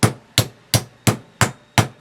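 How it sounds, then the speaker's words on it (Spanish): A hammer drives transformer steel laminations into place with six sharp, evenly spaced metallic strikes, close and loud, with no talk. "Estas chapas hay que ponerlo a la fuerza con la ayuda de un martillo."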